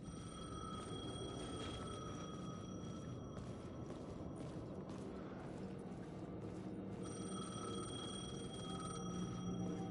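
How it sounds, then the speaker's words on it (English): A payphone rings in the video game Alan Wake 2 with repeated electronic trills in a steady rhythm, heard quietly over a low ambient hum for the whole stretch. "The payphone was ringing."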